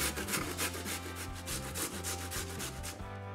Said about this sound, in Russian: И также на мелкой терке натираем картофель.